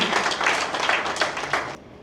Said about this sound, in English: So big round of applause for the chief guest of the evening.